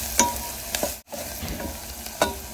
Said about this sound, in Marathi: आणि आपण हे मसाले छानपैकी परतून घेऊया।